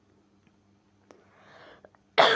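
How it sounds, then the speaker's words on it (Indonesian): A single sharp, loud cough bursts out at the end after a few quiet seconds of faint background noise and a soft shuffle. "saya lagi batuk"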